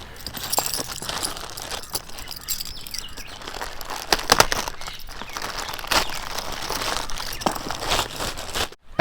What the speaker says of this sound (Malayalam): നമുക്കെന്തായാലും പാക്ക് അൺബോക്സ് ചെയ്യാം.